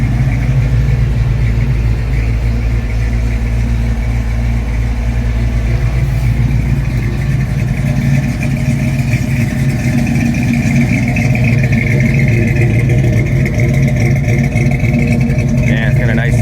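A restored 1966 Chevrolet C10 short bed with a new 350 crate V8 and Flowmaster mufflers idles steadily and loudly close by, a deep continuous rumble throughout with speech faintly underneath.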